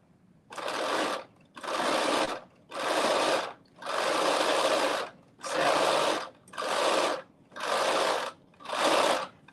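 Sewing machine stitching a reversible bonnet in eight even bursts of fast whirring, each about a second long with short pauses between, close and clear, no talk.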